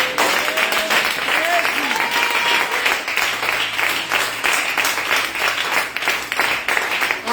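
A church congregation breaks into sustained applause, a dense steady wash of clapping from many hands with scattered cheers and voices mixed in.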